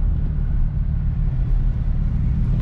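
A BMW car with an N47 diesel engine on the move, its low, steady engine drone and road rumble heard up close, apparently from inside the cabin, with no voices.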